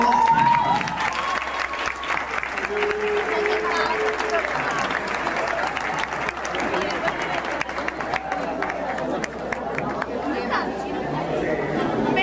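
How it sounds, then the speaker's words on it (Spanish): An audience applauds steadily for a dance duet at an academy performance, dense clapping mixed with crowd chatter and voices that runs without a break. "Pues un aplauso muy fuerte para ellos."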